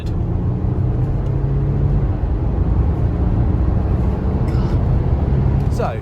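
An Audi Q5 Special Edition accelerates hard from 30 under kick-down, a steady loud engine drone heard from the cabin with rising tonal whine, punctuated near the end by brief clicks.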